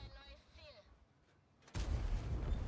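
A Leopard 1 tank cannon fires once in a tank video game, a sudden loud, broad boom that rolls on after a quiet stretch with faint voices and game noise.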